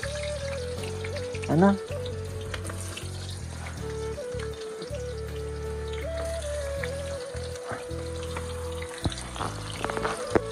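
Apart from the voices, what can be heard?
onions frying in a pan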